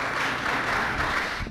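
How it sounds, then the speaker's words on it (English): Sustained audience applause at a get-out-the-vote candidate event, a dense even wash of many hands clapping close and loud, cutting off abruptly at the end. "Let's give each of them a round of applause."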